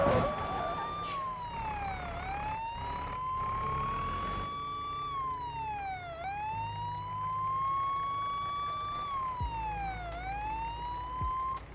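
A police car siren in a truck-driving video game wails in long rising and falling sweeps, loud and steady over a low engine drone, with occasional clunks and impacts and no talk.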